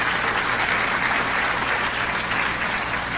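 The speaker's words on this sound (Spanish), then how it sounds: "¿Cuántos le dan un aplauso a Él?" A church congregation applauds during a Sunday sermon, a dense, steady wash of many hands clapping at once, loud and sustained throughout with no talking over it.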